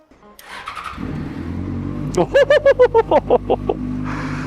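A Yamaha FZ6S motorcycle starts up, a short whirring crank catching into an idle, then a rapid series of loud throttle blips in quick rhythm before settling back, close by; a voice speaks briefly before the start.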